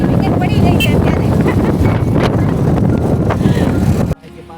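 Cold wind blows outdoors, a loud, constant rumbling gust buffeting the microphone with voices faintly mixed in, then it cuts off abruptly near the end.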